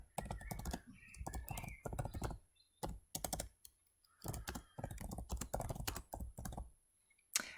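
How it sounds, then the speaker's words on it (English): Fingers tap out a brief email on a computer keyboard in irregular bursts of quick clicks, with short pauses between groups of keystrokes and no talking. "so I'll just type something very brief"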